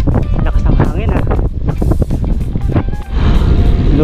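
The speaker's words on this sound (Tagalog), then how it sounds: "Lakas ng hangin ah." Strong wind buffets the microphone during a road bike ride near Lucban, Quezon, a steady loud roar under heavy breathing and brief talk, with passing traffic rumble throughout.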